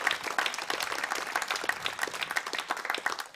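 Audience clapping at a live Celtic Connections concert, a thank-you for the GCU students, fairly soft but steady across the whole stretch with individual claps distinct.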